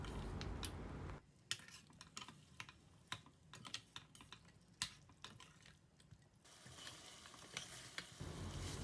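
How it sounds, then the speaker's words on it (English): Mutton and curd fried together in a pan for a Mughlai korma, stirred with a utensil that knocks and scrapes in a string of sharp clicks over a soft, quiet sizzle. "Now let's mix the curd well with the mutton, and we'll stir them for another 2 to 3 minutes"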